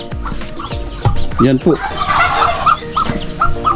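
Farmyard fowl cluck and call in short repeated bursts near a brooding duck with chicks, with someone speaking briefly over the birds.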